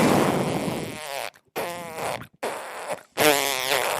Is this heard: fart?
yes